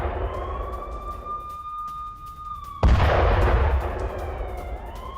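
US military strike on Iran: a wailing siren tone rises and holds, then a sudden loud boom erupts into a sustained rumbling roar as the siren fades back in, with no talk.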